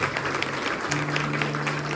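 Church congregation clapping in applause during a sermon at a sanctuary, dense steady clapping filling the short moment.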